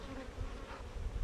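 Dense, steady buzzing of a honeybee colony during an outdoor beekeeping lesson, a continuous close drone of many bees with no talk over it.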